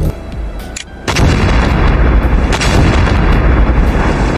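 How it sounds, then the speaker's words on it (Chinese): A film bomb explosion erupts after a brief lull: one huge deep boom that rolls into a sustained loud rumbling roar and debris wash, close and overwhelming, with no voices. "一声巨响，歹徒引爆炸弹"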